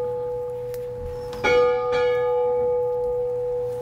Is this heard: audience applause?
no